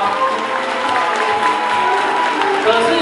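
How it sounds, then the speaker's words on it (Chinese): An indoor event audience claps steadily throughout, a dense, fairly loud wash of applause with crowd noise and a voice faintly audible beneath it. "我们再给她一个特别热烈的掌声，好不好？"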